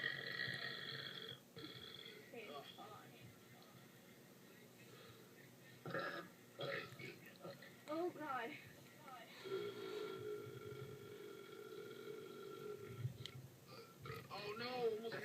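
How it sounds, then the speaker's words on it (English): A woman burps repeatedly at a burp contest, with several short guttural bursts scattered through the stretch. Other people talk and laugh around and between the burps. "Toilet, hold off for a second while she burps a word for me"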